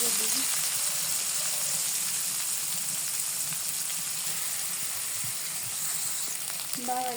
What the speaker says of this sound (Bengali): বাগার দেওয়ার জন্য আমি তেল দিয়ে দিই পেঁয়াজ দিয়ে দিই কাঁচামরিচ